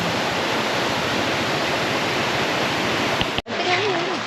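Rushing river water at Lubuk Tengah near Batu Kurau, a steady, dense, loud wash of flow close by that breaks off abruptly near the end.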